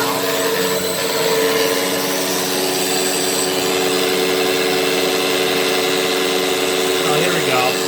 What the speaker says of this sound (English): Vacuum should be laying down now.